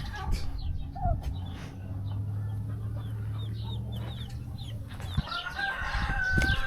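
Chickens hatched by a turkey cluck and chirp around a homestead yard, several birds calling at moderate distance over steady low rumbling background noise, with a rooster-like call near the end.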